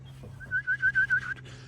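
A red homing pigeon at a loft, with a short run of five or six bright, rising whistled notes in quick succession over faint background hum.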